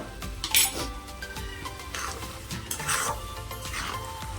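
Dry fruits, including cashews, being stirred into sugar-free carrot halwa cooked down with jaggery in a pan. A spoon scrapes and clinks against the metal in uneven strokes, with a faint sizzle beneath.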